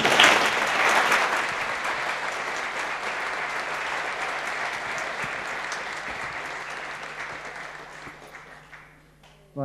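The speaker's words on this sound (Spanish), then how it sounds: "yo pediría que le diese el aplauso más emotivo de vuestras vidas" Emotional applause from an audience at a talk about fasting and its social, ethical and spiritual meaning, loud dense clapping that starts strong, holds steadily, then gradually thins and fades toward the end.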